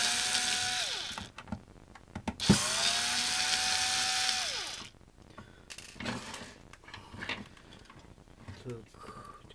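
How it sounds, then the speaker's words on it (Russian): A cordless screwdriver whirs in two sustained runs, pitch rising and falling, while backing screws out of a Domotec DT 1127 steam iron, followed by small clicks and handling of plastic parts as a person talks. "И вот здесь еще есть два винтика. Откручиваем все это."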